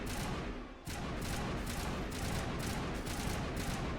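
Sustained heavy gunfire from combat in the video game Mass Effect, dense rapid shots pounding almost without break, briefly dipping before resuming loud and close.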